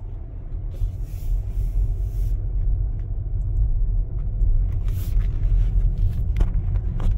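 Tesla Model S Long Range Plus pulling away, a low steady cabin rumble of road noise with faint clicks and soft interior sounds, no talking.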